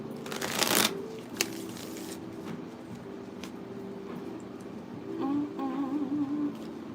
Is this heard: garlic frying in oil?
no